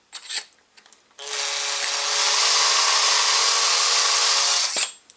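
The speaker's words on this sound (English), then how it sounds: "This is a fabulous way to trim the brass without breaking the bank." A power trimmer whirs steadily as it trims a 7mm Remington Magnum brass cartridge case, running loud and close for about three and a half seconds, with brief handling clicks before and after.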